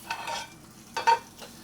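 Short bursts of sizzling from phyllo-wrapped feta frying in hot, smoking oil, a couple of brief crackling surges close by, with no voices.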